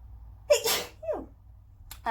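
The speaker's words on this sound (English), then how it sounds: "Hang on, I gotta sneeze." A single sharp sneeze bursts out with a quick intake of breath before it, then a short exhale afterward.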